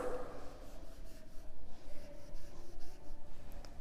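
A pencil or pen scratches across paper in quiet, short strokes while a maths subtraction problem is written out, the faint scribbling continuing steadily with no voice over it.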